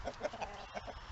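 Chickens cluck and murmur nearby, including hens resembling Australorps, in short irregular bursts of soft, close calls with no talking.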